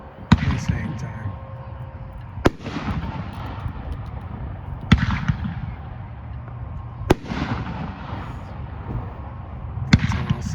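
Mother of All Bombs fireworks shell detonating at an American fireworks demo day, a series of four or five sharp, loud outdoor bangs spaced a couple of seconds apart, each trailing off in crackle, with people talking and cheering between them.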